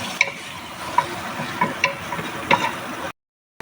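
Onion sautéing in oil in a heated pan, a steady soft sizzle with a few distinct stirring clicks and taps of a utensil against the pan, close and alone without talk, cutting out near the end.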